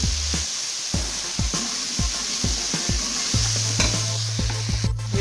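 A spoon stirs a chicken biryani mixture with salt in a pot, scraping in a series of regular strokes over a continuous sizzle, close and alone with no voices.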